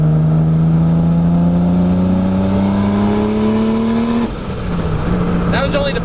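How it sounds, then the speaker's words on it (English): A widebody single-turbo Toyota Supra pulls hard in third gear, its engine note rising steadily and loudly before a sharp break as the throttle lifts, followed by a brief turbo flutter and chirp. "This is just in third gear,"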